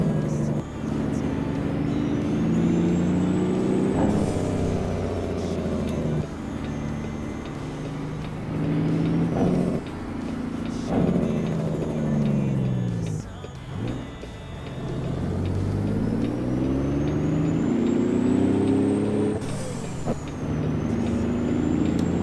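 A Peterbilt 389 truck in American Truck Simulator rumbles with a steady low engine drone, broken by several sharp hissing air-brake bursts and a rising whine as it slows and pulls away.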